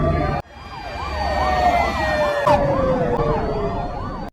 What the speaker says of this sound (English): nearly crash into an oncoming horde of ambulances and police cars